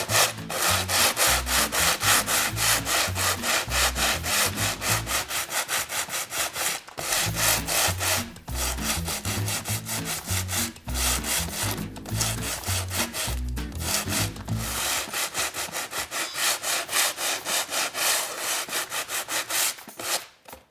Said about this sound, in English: I'm going to use an 80 grit piece of sandpaper, and I'm going to sand the area where I have applied my Stencil of Paris paste